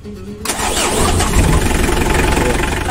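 A Mitsubishi L300 van engine cranks briefly and catches, then settles into a loud, steady idle close by.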